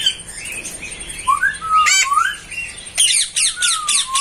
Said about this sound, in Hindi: रेड ब्रेस्टेड पेराकीट इंडियन बर्ड ही है